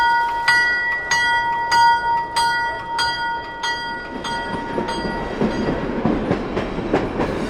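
A Western Maryland Alco S6 locomotive on a charter trip on the Middletown and Hummelstown Railroad sounds a bell with regular ringing strokes, then the train rolls on with rising rumble and rail clatter nearby.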